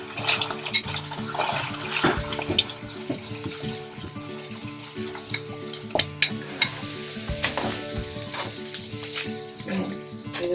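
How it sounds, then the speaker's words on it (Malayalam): Sausages fry in oil in a pan on a lit stove for a Kerala-style sausage roast, giving a steady crackling sizzle broken by stirring clinks and scrapes, with a faint tonal hum underneath. "സ്റ്റൗ കത്തിച്ച് നമ്മൾ ഈ സോസേജ് വറുത്തെടുക്കണം."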